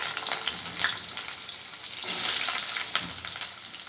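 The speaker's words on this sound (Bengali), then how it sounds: "আলুগুলোকে আমি একটু ভেজে নেব।" Chopped potatoes frying in a pan, a bright, hissing sizzle that swells and eases with a few faint clicks, close and steady with no voices.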